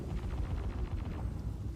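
Gunfire from weapons in the space game Star Citizen, a short burst of rapid booming shots under a low rumble, with no talk.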